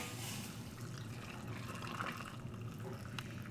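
Hot pickling brine with dissolved sugar being poured into a jar of beets, a soft continuous liquid trickle and splash, quiet and close, with no talking.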